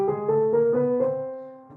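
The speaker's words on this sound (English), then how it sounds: "That's called a chromatic scale, where I'm using only semitones." A short chromatic run in semitone steps, about five closely spaced notes rising on a melodic instrument, quiet and close, fading out at the end with no talking.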